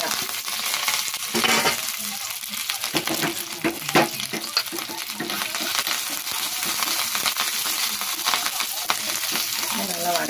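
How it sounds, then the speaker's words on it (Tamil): Urad dal, curry leaves and dried red chilies crackle and sizzle in hot oil, a steady close frying hiss with occasional scraping stirs throughout. "நல்லா வதக்கிக்கோங்க."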